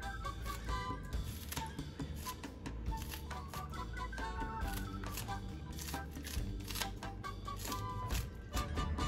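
A knife cuts washed scallions on a board for a fried porgy escabeche, giving a steady stream of quick, crisp chopping taps, fairly close and continuous throughout. Kitchen background noise sits underneath.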